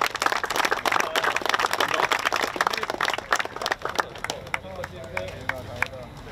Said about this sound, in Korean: 매니저한테 박수 한번